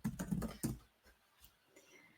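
Quiet typing on a computer keyboard: a quick cluster of soft key clicks followed by a few sparse, fainter taps.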